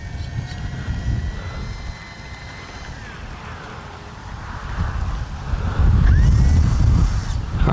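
E-flite Beechcraft D-18 twin-engine RC model tail-dragger airplane flying, a steady buzzing electric motor drone over wind noise, swelling louder toward the end as it passes nearer.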